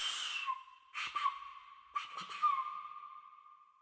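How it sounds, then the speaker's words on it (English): A silbato de muerte, a variant of the death whistle, gives a high, breathy whistle sustained on one shrill pitch, with a few rough, airy bursts layered over it, close and fairly loud. "We have a silbato de morte, which is a variation of the death whistle."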